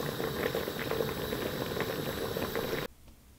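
Vegetables for a spicy tomato, pepper and chili spread simmering in a pressure cooker with half a glass of water over very low heat, giving a steady, close bubbling hiss that cuts off abruptly near the end.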